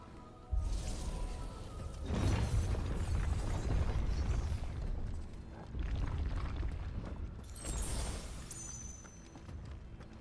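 Loud booming explosions from the video game Final Fantasy XVI, with rumbling bursts that swell, fade and return several times over a dense, continuous roar of battle effects.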